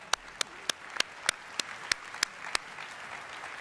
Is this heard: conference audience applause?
yes